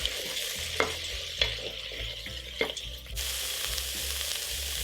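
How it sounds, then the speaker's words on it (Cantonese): Prawn heads and shells stir-frying in a pot for a bisque, with a steady sizzle broken by several sharp scrapes and knocks of the utensil against the pot bottom, fairly close and with no talking. "啲蝦頭蝦殼咧必須要咁樣炒一輪"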